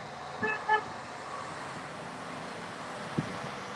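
Two short car horn toots in quick succession over faint town traffic and wind noise in Ligonier, followed later by a brief soft knock.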